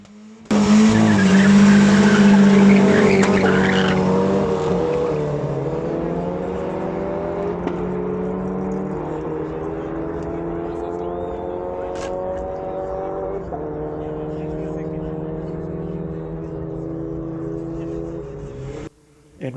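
Naturally aspirated VW Golf racing, engine revving hard at the start then holding a steady high-pitched drone with rising harmonics as it pulls through gears, loud and close for most of the run before cutting off near the end.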